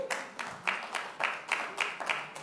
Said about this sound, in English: Could you just give them a hand clap of praise for